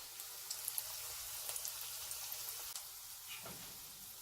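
Cabbage pakoda fritters, dropped like bonda into hot oil, fry in a steady, soft, even sizzle with faint bubbling pops throughout, and no voices.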